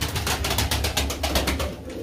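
Pigeons, including tumbling and high-flying breeds, coo in a loft in a low, steady murmur, close and continuous, with no voices.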